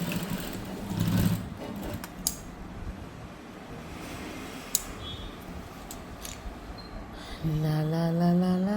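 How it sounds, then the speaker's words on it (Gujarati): A domestic sewing machine stitches a blouse latkan, a faint whirring run with a few clicks, then a louder, steady motor hum with stitching in the last second or so. "ચાલો સિલાઈ મારીએ આપણે."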